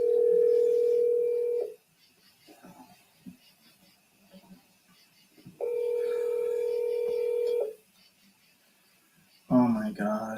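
Telephone dial tone, a loud steady electronic tone heard twice for about two seconds each, separated by quiet rustling, with a voice starting at the end.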